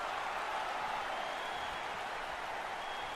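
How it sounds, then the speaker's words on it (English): Video game crowd noise in WWE 2K19 during an NXT Takeover Brooklyn wrestling match, a dense steady roar of cheering and applause that holds at the same loud level throughout. "This crowd going crazy for these two young men."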